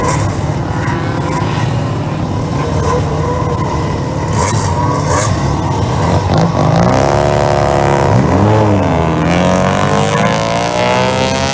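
A 1979 Mazda RX-7 IT7 race car roars along a track, its engine pitch rising and falling through gear changes and passes, loud and continuous with no voices.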